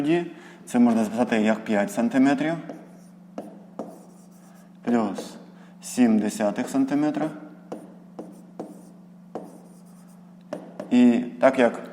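A pen scratches across paper in short bursts while someone works through a fifth-grade maths exercise, with someone talking over much of the writing.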